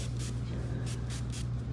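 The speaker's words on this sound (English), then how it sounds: "This is our wave spray." Hair wave spray hisses from a can in several short bursts, a soft steady rhythm of sprays over a constant low background hum.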